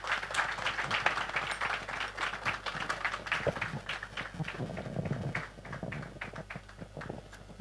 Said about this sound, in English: Can we have a big round of applause for Pawanjot's family